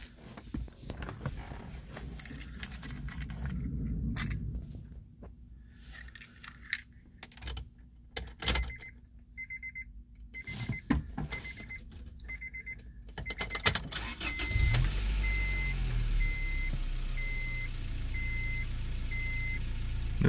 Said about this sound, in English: Crank it up here.